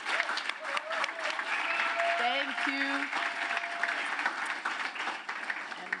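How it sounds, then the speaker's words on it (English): An audience applauds host Ed at a Latin culture celebration event, a steady wash of clapping throughout with a speaker's voice heard over it. "Let's give a round of applause to Ed, our big host."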